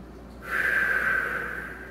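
A deep breath drawn in during an anti-extension core isometric hold in a tall-kneeling position, heard as one steady airy inhale that swells after a brief quiet start and holds close to the mic.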